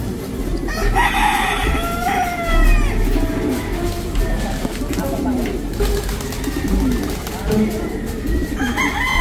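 Pigeons and doves in a backyard loft, including a young brown tiger bird, coo and flutter in a busy chorus of overlapping calls, with a rooster crowing somewhere nearby and faint talk in the background.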